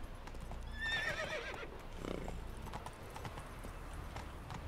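Horse hooves clip-clopping in The Witcher 3, a steady quiet trot with a horse's whinny early on, over a low game ambience.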